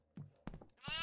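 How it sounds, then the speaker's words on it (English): A goat bleats in the horror video game Devour, three short, close, quavering bleats in quick succession, the last one rising and louder, with no talk over it. "Oh shit! There's a goat."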